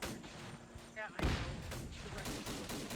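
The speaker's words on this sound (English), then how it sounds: "Rifle grenades immediately going off." Rifle grenades going off in Arma 3, in a Zeus-run Indochina operation: one heavy close blast cuts in partway through, followed by rumbling, crackling fire and distant bangs, with radio-style voices faint beneath.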